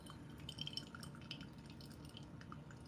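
Hot water from a Mueller kettle trickles steadily over coffee grounds, a faint, continuous liquid patter with soft drips and light glassy clinks, close and without talk.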